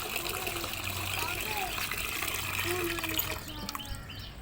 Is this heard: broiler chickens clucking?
no